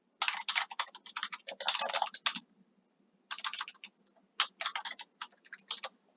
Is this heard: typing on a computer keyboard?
yes